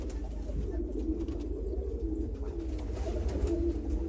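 Pigeons on a Turkish breeding farm coo softly in a low, continuous murmur, steady and somewhat distant, under a constant background noise.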